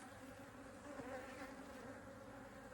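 Honeybees drone steadily around an open hive during a fall inspection, a dense, continuous buzz that holds close and fairly loud throughout, with no voices over it.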